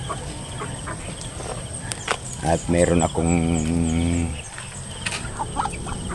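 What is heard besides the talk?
hens clucking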